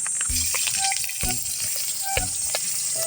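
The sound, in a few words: sautéing onion and garlic in a pan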